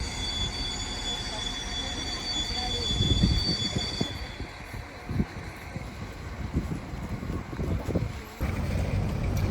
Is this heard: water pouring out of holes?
no